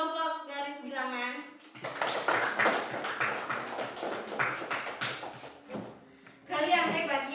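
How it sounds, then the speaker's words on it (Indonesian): A classroom of children claps for the number line group, a burst of rapid, uneven hand claps lasting several seconds between stretches of talking. "jadi tepuk tangan untuk kelompok garis bilangan"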